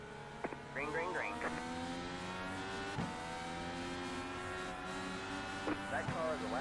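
Race cars drone around an oval track in a steady, distant engine roar, with radio spotter chatter breaking in over it.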